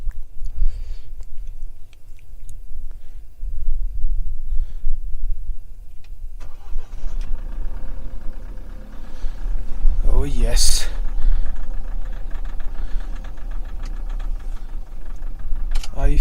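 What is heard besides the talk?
Mahindra Thar engine being started and idling in cold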